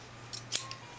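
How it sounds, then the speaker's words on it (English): Hair-thinning shears snip through a client's dense, thick hair in two quick, crisp close-up cuts, the second slightly stronger, with no talking. "now we are going to blend everything in with my thinning shears, which cut about every ninth hair"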